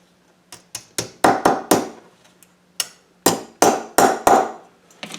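A small part on a model of the SS Ventura ship is tapped into place with a light hammer, giving about a dozen sharp, close metallic taps in irregular clusters with short pauses between them, with no other sound.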